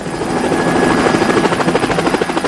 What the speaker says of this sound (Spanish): los helicópteros llevan la carga suspendida de un cable